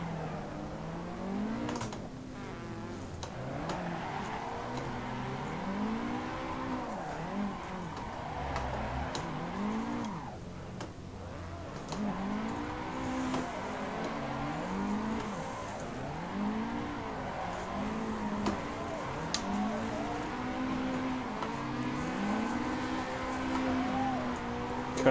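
A drift car in a sim racing game revs and swoops through a drifting track, engine pitch rising and falling in repeated waves as it slides, with faint ticking clicks scattered over the continuous engine drone.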